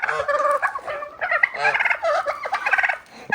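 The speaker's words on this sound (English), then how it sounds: "They're not bad. They're just noisy." Several turkeys gobble in quick, bubbly bursts, close by and loud, one call overlapping the next with short gaps between.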